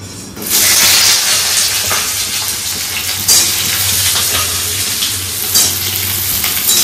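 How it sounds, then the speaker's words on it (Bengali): Peeled pointed gourd (potol) fries in hot oil with a loud, steady, close sizzle that starts abruptly and holds, with faint stirring scrapes. "একদম হালকা হালকা করে ভাজবো"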